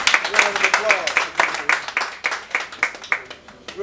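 Applause for Brother Bumani and his staff at the farewell of a group Ghana tour, a small crowd clapping in uneven, quick repeated claps with a voice speaking over it.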